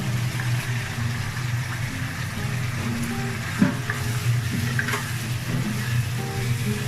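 Tuna fish pieces fry in spiced oil for a curry, giving a steady, continuous sizzle and crackle close by, with a few brief clinks of the pan and no talking.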